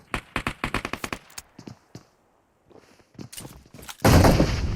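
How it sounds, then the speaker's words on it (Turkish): PUBG Mobile gunfire rattles in a rapid run of sharp shots, then scattered bursts after a brief pause, ending in a loud, sustained grenade blast close by; no talk. "Oğlum bana bomba atan kim?"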